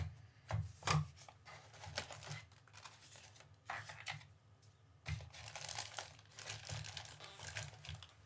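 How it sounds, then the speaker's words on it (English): A paper leaflet of Raspberry Pi regulatory compliance and safety information is handled close up, with soft crinkling and rustling bursts spread across the clip and no talking. "Little Raspberry Pi regulatory compliance and safety information. Bit of paper."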